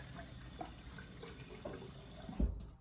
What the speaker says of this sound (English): So I'm going to fill up with water